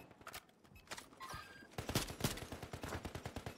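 Rapid gunfire bursts and single shots in a squads shooter video game, some muffled as if through a wall, crackling in quick irregular volleys near and mid-distance, with faint speech underneath.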